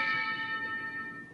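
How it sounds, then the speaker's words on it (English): A single ringing bell tone, like a doorbell chime, sustains and slowly fades, faint and a little distant, with no voices. "I just got a doorbell knock and a ding dong."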